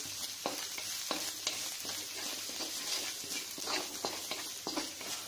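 Ginger and garlic fry in hot oil with a steady, soft sizzle, broken by repeated stirring scrapes of a spoon against the pan at an even pace; no talk.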